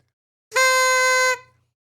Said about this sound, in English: you get the celebratory honk